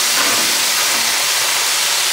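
Pork ribs on a reverse flow smoker running at about 300 degrees, a loud, steady, close sizzle and hiss throughout.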